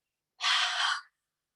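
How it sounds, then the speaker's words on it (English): A single long exhale through the mouth during a guided breathing exercise, a soft breathy rush lasting under a second, close and clear with no talking. "We're gonna exhale through our mouth, okay?"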